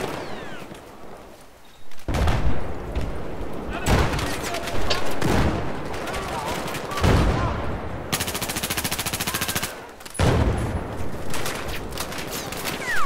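Bursts of suppressed automatic gunfire in Battlefield 4 multiplayer, fired in several rapid volleys separated by short gaps, with game sounds around them.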